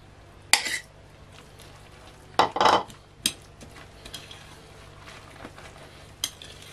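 Onion and mint mixture stirred in a bowl, a few sharp scraping clinks of utensil against the bowl in brief bursts separated by quiet pauses, close and fairly faint.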